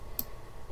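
A single sharp computer mouse click, short and quiet against a faint room hum, taken while saving a file in GIMP, with no talking.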